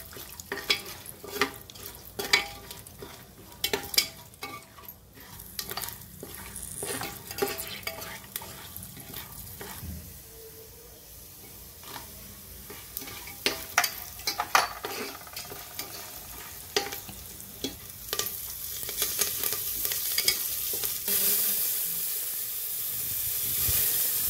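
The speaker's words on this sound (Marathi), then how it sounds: "हिंग घालायचं, शेंगदाणे, हे जरा परतून घ्यायचं चांगलं सगळं." Peanuts and asafoetida sautéing in a pan for a millet upma, with a continuous sizzle and frequent scraping, clinking stir strokes of a spoon against the pan, close and steady, with no talk.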